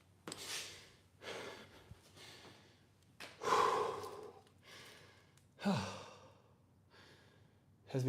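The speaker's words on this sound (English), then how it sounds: "Has me breathing hard." Heavy, hard breathing after squats: a series of loud sighing exhales and snorting breaths spaced a second or two apart, close to the microphone over a low hum.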